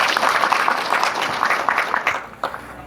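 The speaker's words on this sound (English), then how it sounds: "Give yourself a clap." A seated audience at a police thanksgiving ceremony in Kisii gives a short burst of moderate applause that thins out and fades after a few seconds.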